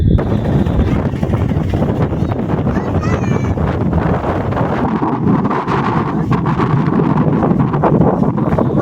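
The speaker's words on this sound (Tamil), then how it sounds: "நல்ல ஹெவியாக காற்று அடிக்குதுங்க" Cyclone wind on the ECR beach at Kovalam, Chennai, roars and buffets the microphone continuously, with a broad rushing noise carrying surf beneath it, loud and steady throughout.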